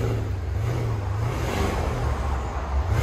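A 2010 Porsche Panamera Turbo with a 4.8L V8, dual exhaust and resonator delete rumbles steadily close by, its deep exhaust tone swelling slightly with blowing wind noise throughout.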